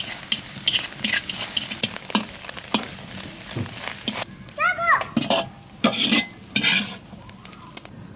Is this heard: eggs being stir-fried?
yes